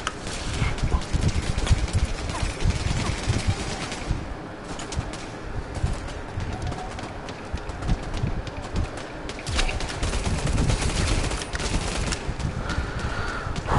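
Dense, continuous gunfire crackles through a busy, loud soundscape in the VR game Bravo Team, with rapid bursts overlapping and no pauses.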